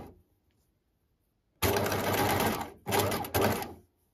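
A sewing machine stitches a simple dress in three loud, steady bursts: one long run, then two shorter ones, with quiet pauses in between and no talk.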